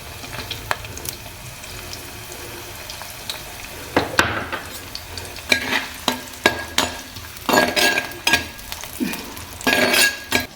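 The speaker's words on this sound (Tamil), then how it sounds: "எண்ணெய் ஹீட் ஆயிடுச்சு ஃப்ரெண்ட்ஸ். பட்டை, கிராம்பு, ஏலக்காய் போட்டுட்டேன்." Chopped onion goes into hot oil with cinnamon, cloves and cardamom and fries. A steady sizzle sits under repeated sharp scrapes and clinks of a spoon stirring against the pan, close and fairly loud.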